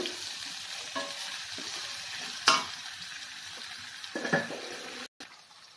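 Vegetables sauté in a pan with salt for bread pulav: a steady close sizzle punctuated by a few sharp spatula scrapes and clanks against the pan, with no voices.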